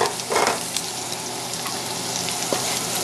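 Shrimp frying in a hot wok for pad thai, a dense continuous sizzle close by with a loud splash of crackling as they go in and a later short clatter, no speech.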